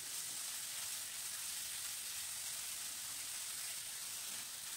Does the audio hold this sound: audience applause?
no